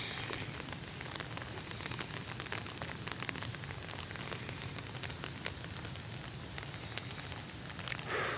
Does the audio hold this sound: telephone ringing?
no